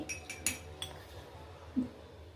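A spoon clinks against a cup while milk powder is stirred into hot water for jaggery masala tea, a few light, faint metallic taps with a soft knock near the end.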